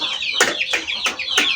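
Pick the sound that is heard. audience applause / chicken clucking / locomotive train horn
chicken clucking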